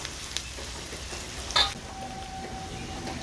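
Chopped onions and tomato fry in a pan for chana masala, a steady low sizzle with one sharp clink of utensil against the pan midway.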